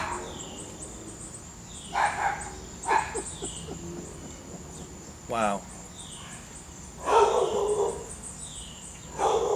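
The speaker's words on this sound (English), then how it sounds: "That dog will sit there and just bark." A dog barks several times in separate bursts, sitting in a garage during Jeep Wrangler A/C leak-detection work, moderately close over a faint background hum; one brief spoken word is heard.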